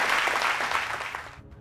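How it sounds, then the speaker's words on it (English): An audience at a breathwork and mindset workshop claps in a dense burst of applause that fades out toward the end, with no talk over it. "Everybody give her a round of applause."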